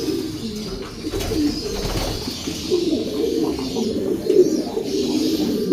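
Pigeons of a long-feathered show breed cooing close by, a steady overlapping stream of low, throaty coos with faint chirps higher up and no talking.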